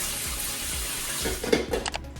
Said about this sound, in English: just pick that up off the floor and give it a rinse under hot water